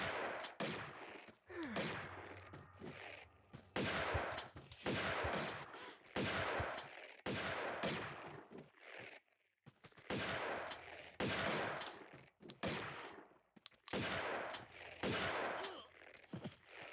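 Gunfire in Tomb Raider 2 sounds in repeated bursts of sharp, booming shots with short pauses between volleys. It is loud and near, with a voice talking faintly underneath.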